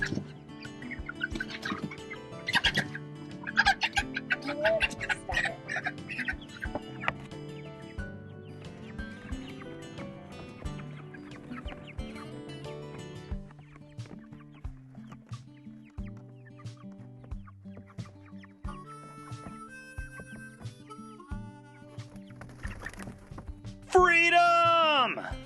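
Backyard chickens clucking and squawking while six at a time are loaded into a plastic tote for moving, busy close-up fowl calls with handling noises and a sharp burst near the end, plus some talk.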